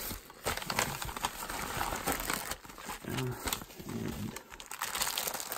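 Padded envelope of LEGO bricks being torn open and handled, with close crinkling and crumpling of paper and bubble padding in uneven bursts.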